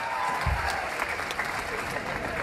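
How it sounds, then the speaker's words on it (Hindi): A large crowd at an election campaign rally in Betul claps in a brief, dense burst of applause, steady and fairly loud across the short stretch. "ठोको ठोको ताली ठोको"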